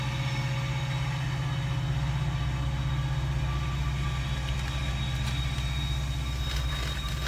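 Heavy rumble of a long freight train passing nearby carries on unbroken, a steady low drone with faint clicks and rattles and no speech.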